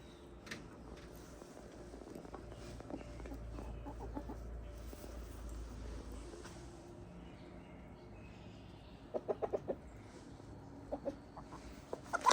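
Backyard chickens give soft, scattered clucks near a shed, then a quick run of short clucking bursts toward the end, all fairly faint over a low outdoor background.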